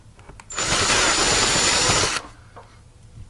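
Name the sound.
power drill drilling a hole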